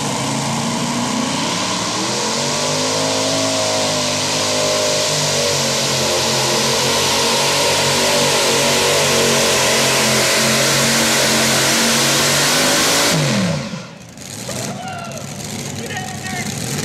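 Three supercharged Chevy engines roar together on a pulling truck at a truck and tractor pull, a sustained, very loud, close howl with rising revs, cutting off sharply near the end to a lower idle.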